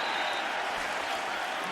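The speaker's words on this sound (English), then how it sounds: "Well-earned ovation from this UConn crowd." A UConn home crowd at a college football game applauds and cheers an ovation after a run, a steady dense roar of clapping that holds through the short moment at a distance.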